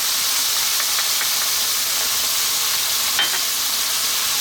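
Pork stir-frying over high heat in a hot pan with vinegar, soy, oyster sauce and ketchup. A loud, steady sizzle and hiss continue throughout, with a few faint clinks of stirring.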